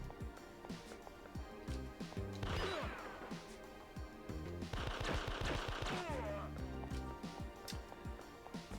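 Arcade gunfire from Elevator Action Returns crackles in dense bursts over busy game music and effects, with explosive crashes layered throughout.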